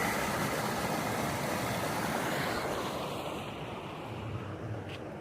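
Waterfall water rushing down near Konnagar, a dense, even roar that stays steady and fairly close, with no voices.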